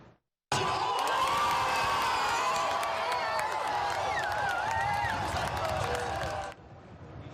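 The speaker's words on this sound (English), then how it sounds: "And cheering for the red and white was dozens of supportive fans right here in Windsor." A crowd of dozens of fans outside Windsor City Hall, cheering for the red and white: steady, dense roar of voices and shouts with some clapping, loud and sustained for several seconds before cutting off.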